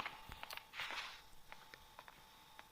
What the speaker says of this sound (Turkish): Ayak sesi geliyor